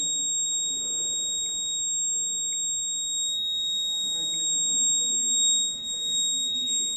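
A steady, high-pitched electronic buzzer tone from a smart bag's anti-theft alarm holds continuously, with a low murmur of room noise underneath.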